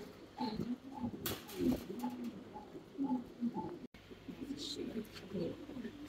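Fancy pigeons at a farm in Hatinda, Natore, coo in a steady repeating rhythm, soft and close, one call following another.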